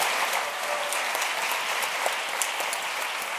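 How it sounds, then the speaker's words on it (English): Audience applause for two speakers at a special closing session of the Herald Design Forum 2011, a steady broadband patter of many hands clapping evenly and fairly close throughout, without voices over it. "Please give them a big round of applause for the two men."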